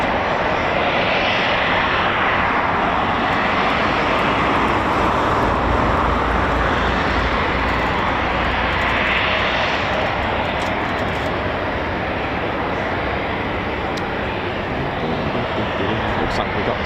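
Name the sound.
military jet aircraft taxiing at RAF Coningsby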